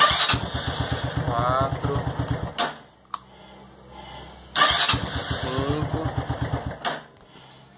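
Motorcycle starter cranking an engine on a recovered battery, two long bursts of rapid churning cranking separated by a pause, loud and close, with a man counting aloud between attempts.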